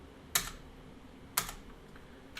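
Three sharp, separate keystrokes clack close by on a computer keyboard while a Cisco router is configured in a CCNA lab. They are spaced about a second apart over a quiet background.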